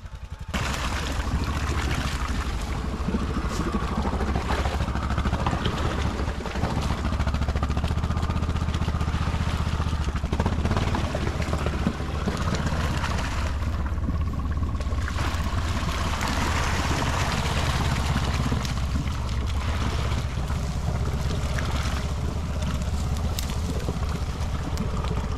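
A Honda off-road vehicle drives through a water ditch at an off-road orienteering event in Sotkamo, its engine droning loud and continuous with sloshing, rumbling and shifting load throughout, with no voices.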